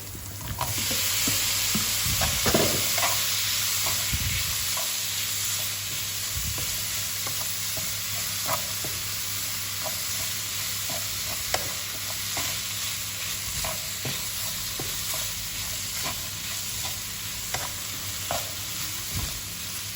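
Turkey meat sautéing with paprika in a frying pan, a steady loud sizzle with scattered crackles and the scrape of stirring throughout, no voices.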